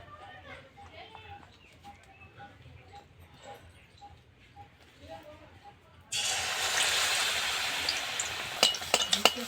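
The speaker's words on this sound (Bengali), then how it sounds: "উল্টে পাল্টে ভালো করে ভেজে নেব।" Bok flower fritters in rice flour batter frying in oil: a quiet start with faint voices, then a loud, dense sizzle bursts in and continues steadily to the end.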